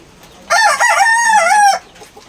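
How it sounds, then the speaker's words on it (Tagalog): A hen on a farm on a rainy morning gives one drawn-out, tonal call lasting just over a second, loud and close, with quiet background before and after. "Itong ating isang hen."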